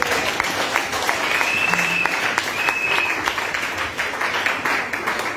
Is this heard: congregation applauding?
yes